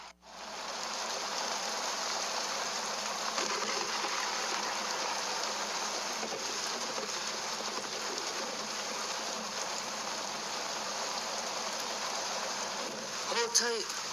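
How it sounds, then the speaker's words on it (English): Heavy rain pours down in a dense, steady hiss that stays loud and unbroken throughout, with a brief disturbance right at the end. "Hold tight. It's raining hard."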